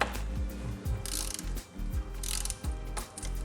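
Stem bolts on the handlebar of a 2025 Canyon Aeroad CF SLX bicycle being tightened with an Allen key, heard as close, quick bursts of ratcheting clicks in short rhythmic strokes.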